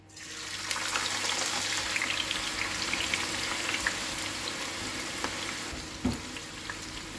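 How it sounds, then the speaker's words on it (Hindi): Sliced onions of equal thickness go into hot oil in a pan for homemade paneer dum biryani, setting off a loud, steady sizzling hiss with crackles and a brief stirring clatter near the end, no voices. "तो तेल भी अभी हमारा गर्म हो गया है। अब इसमें मैं प्याज को डाल दूंगी।"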